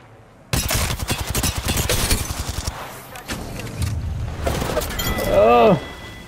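Dense rapid gunfire bursts in the Apex Legends battle royale game, loud and close, rattling for several seconds before thinning into scattered shots with a rising ability tone near the end; players talk over it.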